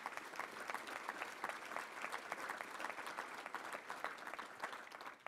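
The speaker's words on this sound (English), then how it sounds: "Let's give him a round of applause," An audience at a touchdown club luncheon claps in a steady, fairly faint round of applause lasting several seconds, with sharp individual claps standing out.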